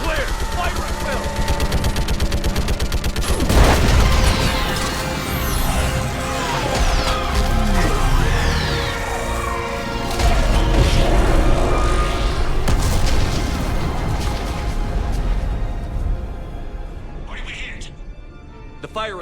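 Orbital strike explosions and gunfire in Mass Effect 3 against a living Reaper, a loud, dense wall of booms, cracks and rumbling impacts lasting throughout, with voices speaking over the battle.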